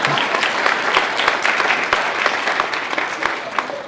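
Audience applause at a Women's Day 2014 welcome address by a university vice-chancellor: dense, steady clapping from a crowd, fairly loud and close, lasting about four seconds with a faint voice underneath.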